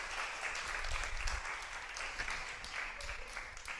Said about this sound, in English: could we give a hearty round of applause for our community care team, everybody?